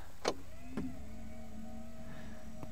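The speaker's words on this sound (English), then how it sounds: "let's try putting up this rear antenna and just wait for this." Power rear antenna on a 1968 Mercury Park Lane Brougham extending with a faint, steady electric motor whine, marked by two brief clicks near the start before the low hum runs on alone.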